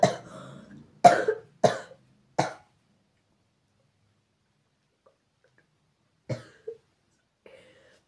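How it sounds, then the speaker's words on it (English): Several harsh, close coughs come in a quick cluster, then silence, followed by a couple of softer coughs and throat sounds near the end. "After I cough, I can't really talk."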